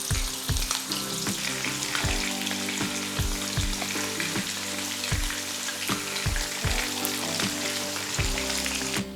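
Chicken pieces fry briefly in a modest amount of oil for ayam rica rica, giving a loud, steady close sizzle with crackling spits and occasional sharp pops from the pan throughout.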